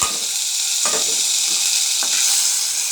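Chopped tomatoes frying in a pan until soft, a steady loud sizzle running throughout, with a couple of brief stirring scrapes breaking through it; no voices.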